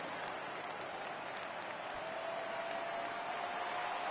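Simulated stadium crowd from the MLB The Show 18 baseball video game, Yankees against Dodgers in the World Series, rising with a 3-2 count: a steady, broad roar with scattered cheers and clapping that swells slightly toward the end, with no talk.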